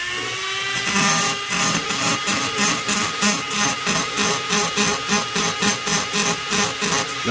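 A rotary tool grinds the cylinder transfer ports of an Echo 670 chainsaw, a loud continuous high whine pulsing in a quick regular rhythm as the bit works the metal, with no talking.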